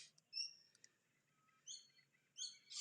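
A myna bird calling outdoors in golden evening light: a few short, bright chirps and whistled notes spaced apart over a quiet background.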